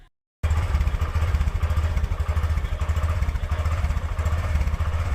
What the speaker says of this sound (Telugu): మనం ఈ ఎక్స్పెరిమెంట్ చేయకముందు బైక్ సౌండ్ అయితే ఇలా నార్మల్గా ఉంటుంది.